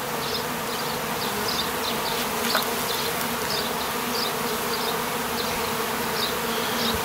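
Honey bees buzz continuously while a colony is moved out of a tree trunk, a dense steady drone filling the whole stretch at close range with no voices.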